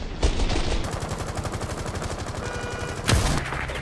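Shotgun fire in Rainbow Six Siege rings out as two sharp blasts a few seconds apart over a continuous rapid rattle of in-game gunfire, fairly close.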